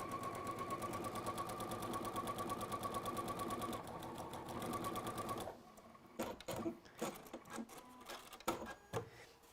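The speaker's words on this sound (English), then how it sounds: "So we're going to sew from that mark you can either do a holding stitch or go backwards and forwards." A domestic sewing machine stitches fabric in a fast, steady mechanical whir for about five seconds, then stops, followed by scattered handling clicks and light knocks, all fairly quiet.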